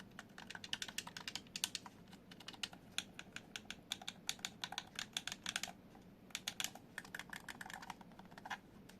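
Buttons on a wireless Xbox Series controller with no battery fitted click in quick, uneven bursts. The taps are light, close and plasticky, with brief pauses between runs.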